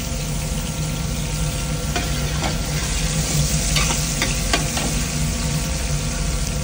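Onion and garlic sauté in a hot pan for an octopus and black bean dish, a loud continuous sizzle with a few light utensil scrapes and taps.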